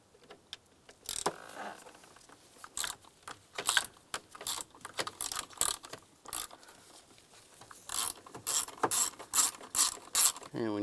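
Screws being backed out of the steering-column combination switch on a 1998-2002 Lincoln Navigator, a close series of quick ratcheting clicks and clattering mechanical bursts in irregular runs, fairly loud with no talking.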